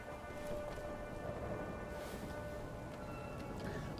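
Steady rain falls in a rainy city scene in Dragon Age: The Veilguard, a dense, even hiss of drops with faint rumbling underneath, continuous and fairly soft throughout.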